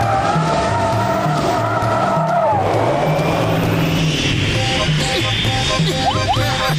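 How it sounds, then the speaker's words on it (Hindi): A cartoon flying car races at speed with a loud, steady engine drone and screeching, skidding tire squeals, up close and continuous throughout without any speech. "अपनी फ्लाइंग कार लेकर कमलपुर वाले ट्रेन रूट पे आओ जल्दी"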